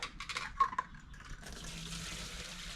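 Fuel is poured out of the tank of a Yard Machines 21-inch push mower, starting with a few splashy trickles and settling into a steady, quiet liquid pour nearby, with no talking.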